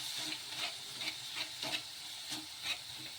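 Chopped onion fries in hot oil with a garlic and cumin paste in a home kitchen pan. Close, steady sizzling runs under repeated scraping stirs that come roughly every half second.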